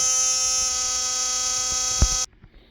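A repaired Philips electric toothbrush runs with a steady high-pitched buzzing hum, close and continuous, with a knock near the end before it switches off abruptly, leaving faint handling sounds.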